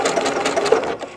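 A Janome Continental M8 sewing machine stitches a programmed decorative sequence, a steady close whirring hum with fast regular needle ticks running continuously with no talk.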